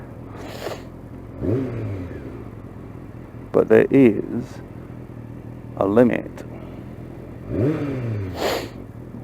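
A motorcycle engine revs in several sharp bursts, throaty exhaust rising and falling close by, while someone talks between the revs.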